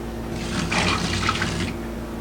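Hot water is poured out of a container into a sink during a traffic name plate etching job, a brief soft splashing stream lasting over a second against a low background hum.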